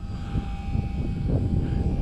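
A HobbyZone Super Cub S radio-controlled airplane in flight, its small electric motor giving a steady, faint buzzing drone overhead against an outdoor rumble of wind.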